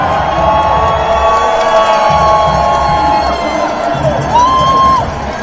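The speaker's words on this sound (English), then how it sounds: "I don't know what they're cheering for." Crowd at an outdoor "No Kings" protest cheering and shouting, a dense continuous roar of many voices, steady and fairly loud throughout, with a brief whistle-like tone near the end.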